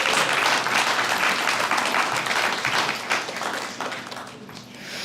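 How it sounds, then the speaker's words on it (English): A room full of people at a guide dog class graduation claps steadily, loud at first and then gradually thinning out and fading toward the end. "Let's give everybody a round of applause."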